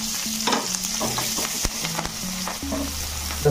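Cumin seeds and green chilies crackle in hot oil in a pan, a continuous close sizzle with sharp pops and occasional stirring scrapes, plus a faint low hum underneath.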